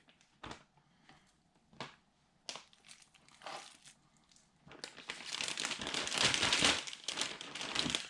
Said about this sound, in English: now I'm going to dump all my meat in this bag